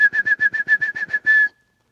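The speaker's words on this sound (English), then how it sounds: "Let me whistle," A person whistles loudly to call a dog, with about nine quick, evenly spaced bursts of the same shrill note and then one longer held blast before silence.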